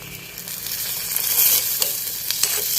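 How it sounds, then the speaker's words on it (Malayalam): Tamarind water goes into a pan of cooked bitter gourd, bringing up a loud, steady sizzle and bubbling with occasional stirring clicks, and no talking. "പാവയ്ക്കൊക്കെ വെന്ത് റെഡിയായിട്ടുണ്ട് ഇനി ഇതിലേക്ക് നമുക്ക് പുളി പിഴിഞ്ഞ് വെച്ചിട്ടുണ്ട് ആ വെള്ളം ചേർക്കാം"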